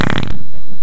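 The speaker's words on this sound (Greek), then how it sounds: "Πω, είπαμε να κλάνεις, αλλά σε χέστηκες μωρή χοντρή." A loud, close fart sound effect, a short buzzy blast lasting about a third of a second, then a quieter rumbling tail and an abrupt cut.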